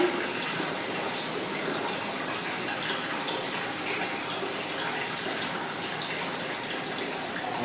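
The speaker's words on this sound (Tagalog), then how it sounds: "napakalakas ng tulo ng tubig namin." Strong, steady flow of water gushing from a household tap, a continuous rushing splash heard close by with no talking.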